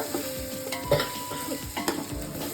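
Close up, a ladle stirs mutton biryani masala in a pot over the stove flame, Dindigul Thalappakatti style, with scraping strokes over a steady sizzle and no talk.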